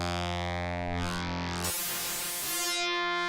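Sustained synth pad on an Access Virus A driven through shaper-mode saturation, a dense buzzy harmonic tone that shifts midway into a gritty, swept distorted texture, loud and alone.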